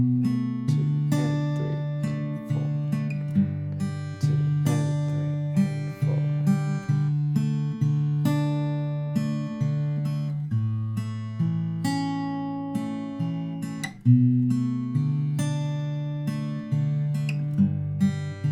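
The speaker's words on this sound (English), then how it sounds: "Put that all together and the finger picked chord progression will sound like this" A finger-picked guitar plays the chord progression of a song, steady plucked notes ringing over repeating bass tones in a slow, even rhythm, played alone and close up.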